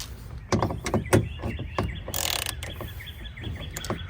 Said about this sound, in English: I have my wrench here. I have 2 extensions to a 10mm.